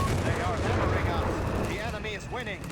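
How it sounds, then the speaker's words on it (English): Mortar fire and artillery in Company of Heroes 3, a steady barrage of booming shots and blasts running under continuous commentary, with a dense rumbling battlefield bed throughout. "mortar fire there, the Grenadiers"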